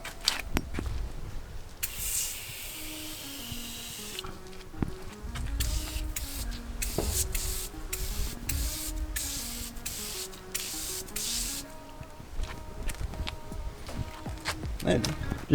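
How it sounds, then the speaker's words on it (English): Aerosol cleaner hisses from a can onto a car wheel to lift old brake dust and road grime, several long close spray bursts with short gaps, a faint electronic whine running beneath. "I like the can because it goes on like a mist."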